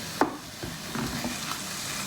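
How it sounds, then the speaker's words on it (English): Vegan pork substitute frying in a pan, a low soft sizzle with a few light scrapes and stirring taps, close and fairly quiet with no voices. "So you've just got to fry this off"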